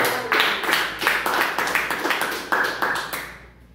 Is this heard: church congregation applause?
yes